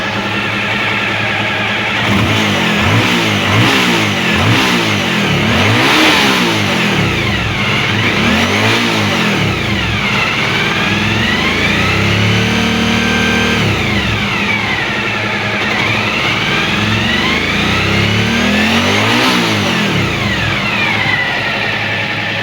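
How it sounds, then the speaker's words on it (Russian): A warmed-up 2014 Suzuki V-Strom DL1000A on its stock exhaust, indoors in a garage, revs loudly and repeatedly, the engine note rising and falling in sweeping throttle blips over a steady idle. "Вот работа двигателя на стандартном глушителе. Мотоцикл уже прогретый. Сейчас газку поддам."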